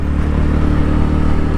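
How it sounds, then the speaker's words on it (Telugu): A motorcycle rides along a road through open water toward Jaffna in Sri Lanka, its engine droning steadily and loud with a low rumble and wind noise throughout, no voices. "సముద్రం మధ్యలో బైక్తో పోతున్నా."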